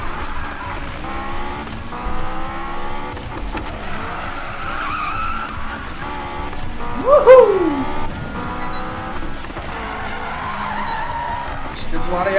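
Tires on a Honda S2000 squeal and skid while drifting in Need for Speed, loud and continuous over a revving engine, with a sharper screech in the middle and someone talking over it.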